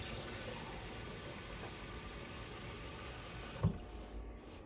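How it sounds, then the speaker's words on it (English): Water pouring steadily into a pot of Tuscan soup from a faucet or container, a continuous rushing splash that stops abruptly near the end, with a faint clunk afterward. "And then it says to add 2 cups of water."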